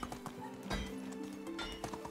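Hooves of a horse being ridden in the medieval survival game Medieval Dynasty, a steady clip-clop of footfalls with a brief whinny, close and clear over a faint musical game background.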